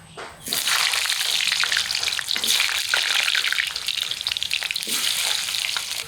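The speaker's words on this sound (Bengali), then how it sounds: "সর্ষের তেলে দিলাম গরম তেলে আগে আলুগুলো ভেজে তুলে নিই" Potatoes frying in hot mustard oil in a kadai make a loud, steady, close sizzle that starts abruptly and continues with crackling spatter, no voices.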